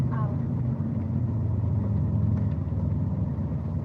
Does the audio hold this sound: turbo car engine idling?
yes